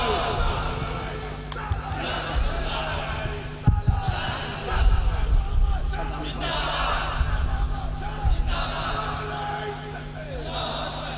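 At an Urs religious gathering, a crowd answers the call with a loud, rising chant of the takbir slogan in several surging waves, heard over a speaker's amplified voice in a reverberant space.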